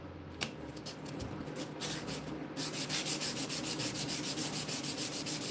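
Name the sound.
light sanding of a surface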